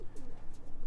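A roller pigeon in a breeding enclosure coos softly in a brief, low, throaty murmur heard close by.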